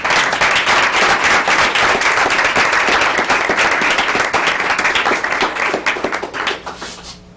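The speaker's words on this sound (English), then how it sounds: "Let's give them a round of applause." Audience applause for honored students at a meeting, full and even clapping from a room of people, holding steady before tapering off over the last second.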